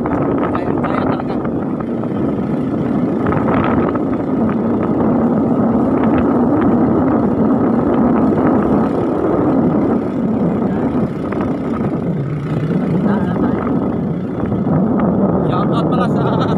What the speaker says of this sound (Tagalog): Kaya naman sa motor na umakyat.